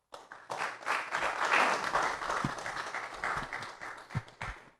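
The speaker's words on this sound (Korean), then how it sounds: "나오실 때 뜨거운 박수로 환영해 주시기 바랍니다" An audience at a book launch event claps warmly to welcome a former university president to the stage, the applause swelling quickly, holding, then thinning into a few last separate claps.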